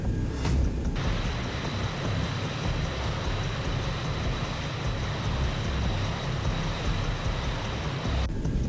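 UTA Flight 141 airliner engines at takeoff power during the roll, a loud steady broadband roar with a constant high whine running throughout, no voices.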